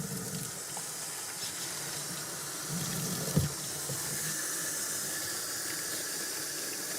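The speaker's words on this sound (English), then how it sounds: "I'm going to use a paper towel to turn the water on." Tap water runs steadily into a basin at a care-home bedside, a continuous close hiss and splash that does not change through the clip. No one speaks.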